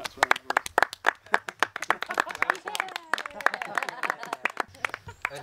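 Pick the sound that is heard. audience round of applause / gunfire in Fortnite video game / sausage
audience round of applause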